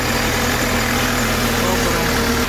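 A 2017 BMW 5 Series G30 engine idles with a steady, even low hum and rumble, loud and close, holding unchanged throughout the short stretch.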